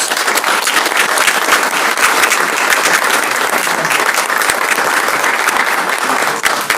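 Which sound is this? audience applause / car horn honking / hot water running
audience applause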